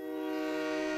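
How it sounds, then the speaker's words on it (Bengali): A train whistle sounds as the train departs, holding one steady, loud tonal blast through the whole short moment. "ট্রেনের সময় হয়ে গেল, জোরে জোরে হুইসেল বাজতে লাগলো।"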